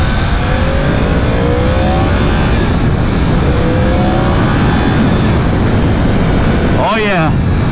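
A Yamaha R1 sport motorcycle, a roughly 200-horsepower superbike, accelerates hard, its engine whine climbing through repeated gear pulls, loud and close under heavy wind rush.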